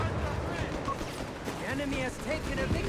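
Grease gun bursts crackle in Company of Heroes 3 as Soviet troops fire on German units in a busy desert battle, the rapid shots rattling steadily beneath a commentator's voice.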